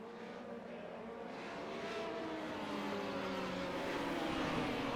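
Race cars lined up behind a pace car on a small UK track in a racing video game, engines droning and rising steadily in pitch as they build speed, a continuous layered roar with no talk.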